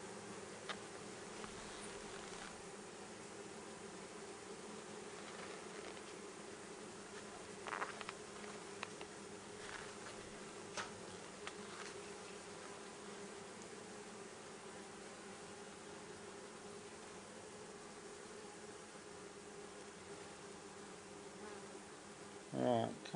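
Honeybees hum in a steady, continuous drone around an open top bar hive outdoors, close and even throughout, with occasional soft knocks and handling sounds over the buzzing.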